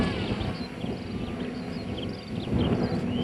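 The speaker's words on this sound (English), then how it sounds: "Going overhead now, Brent." A radio-controlled model plane passes overhead at a model aircraft club in strong wind, its engine drone thin and distant beneath heavy buffeting wind noise on the microphone.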